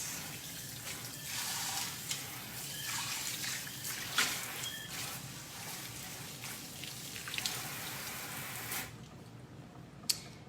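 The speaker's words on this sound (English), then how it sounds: "And then rinse." A cutting board is rinsed under a running kitchen tap, a steady hiss of flowing water with small splashes and trickles that stops abruptly near the end.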